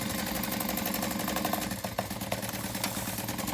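A sewing machine runs continuously at an even pace, basting fabric at one-eighth of an inch around curves, its motor whirring with a fast rhythmic stitching chatter from close by.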